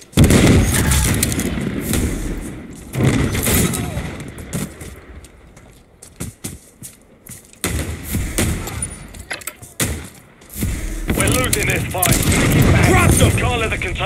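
Call of Duty Modern Warfare 3 multiplayer Infected match: loud, dense gunfire with booming blasts including a grenade explosion, continuous heavy battle noise with a few quieter gaps, mixed with voices.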